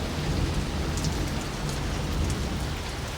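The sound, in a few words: rain falling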